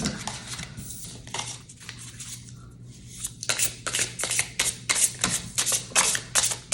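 Tarot cards shuffled hard by hand, a few quiet rustles at first, then a run of crisp, rapid riffling bursts in quick rhythm, close and loud.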